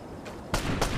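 Two sharp gunshots crack out in Fortnite Battle Royale, fairly close and loud, the second following shortly after the first, over faint background ambience.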